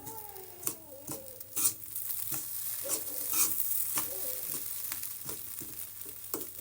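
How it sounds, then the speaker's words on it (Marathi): Moong dal halwa mixture roasting in ghee in a pan, stirred steadily with soft sizzling and regular scraping strokes, close and fairly quiet throughout. "हे तर याला आता आपण भाजून घ्यायचं आहे"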